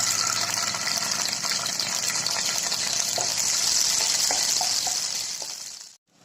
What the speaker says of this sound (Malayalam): ആദ്യം നമുക്ക് അണ്ടിപ്പരിപ്പ് വറുത്തെടുക്കാം